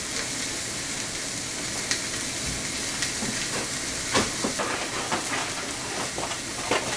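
Eggs sizzle and spit steadily in a hot pan while homemade sausage, egg and cheese McMuffins are cooked, a dense crackling hiss with occasional sharper pops, close and continuous with no talking.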